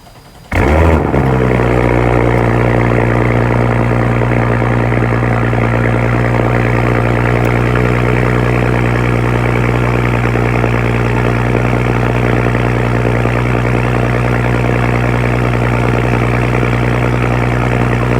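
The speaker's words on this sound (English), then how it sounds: "I'm going to do a quick startup engine. I'm not going to rev the engine." An Audi SQ5 engine cranks and catches, then settles into a steady, loud idle that hums on unchanged for the rest of the clip.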